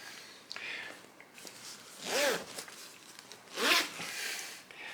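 Vent zippers on a Rev'It motorcycle jacket are pulled open, giving two distinct quick zipping rasps close up, with soft fabric handling between them and no talking.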